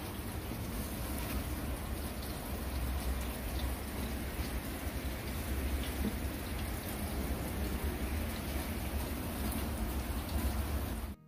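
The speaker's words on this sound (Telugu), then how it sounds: "Snow plus rain." Rain mixed with snow falls in a steady, even patter and hiss that continues unbroken for about eleven seconds, fairly faint and without any voices.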